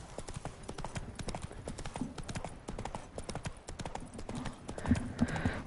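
Horse hooves clip-clop steadily in Witcher 3, the rider's mount trotting along a riverbed while a voice talks over the footsteps, with a brief whinny-like lift near the end.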